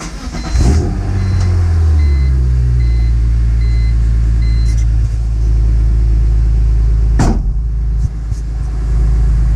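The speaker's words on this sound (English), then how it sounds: "Car starts up no problem." A BMW E46 M3 track-build engine cranks and catches on a fresh lightweight battery, then settles into a loud, close, steady idle rumble with a brief click partway through and no talking.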